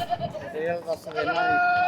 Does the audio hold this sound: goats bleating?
yes